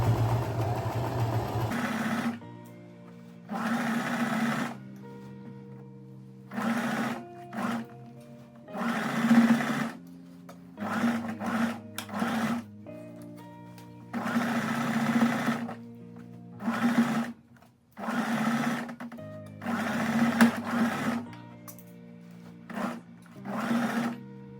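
A sewing machine stitches a gathered puff sleeve into a dress in short, loud, close bursts of fast mechanical whirring, with quiet pauses between runs and no talking.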